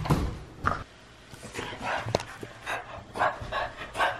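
A puppy barking indoors, several short faint yips and small barks scattered irregularly over a few seconds, quiet and somewhat distant.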